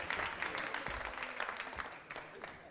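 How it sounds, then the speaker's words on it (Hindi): A studio audience applauds at a Diwali-themed music quiz show, steady clapping that stays fairly even and full for a few seconds with slight swells and no voice above it. "तो तालियां बजाइए समवेत स्वर में उनको"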